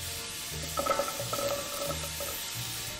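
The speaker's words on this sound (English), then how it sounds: "So it looks like the onions and garlic is cooking up nicely." Onions and garlic sizzle gently in a pan, a soft steady frying hiss with a few light scrapes and stirs, fairly quiet and close with no talking.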